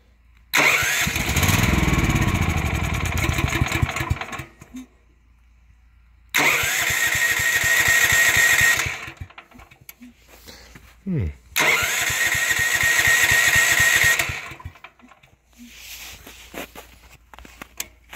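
A dead generator engine is cranked in three separate attempts, each a few seconds of loud mechanical churning that cuts off abruptly, with quiet gaps between them.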